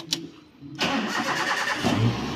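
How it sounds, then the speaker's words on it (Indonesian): A Toyota Avanza's engine cranks and catches during a routine service check, a short starter burst followed by a steady, fairly loud idle settling in. "Kemudian, nyalakan mesin mobil."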